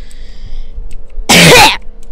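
A single loud, harsh cough burst over a low background hum, lasting about half a second.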